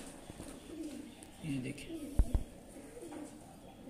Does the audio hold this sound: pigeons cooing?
yes